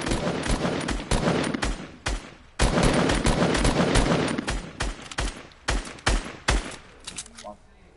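Rapid video-game gunfire in a live multiplayer shooter match: repeated loud bursts and single shots, some quick sharp cracks, with brief pauses in between and a muffled gap near the end.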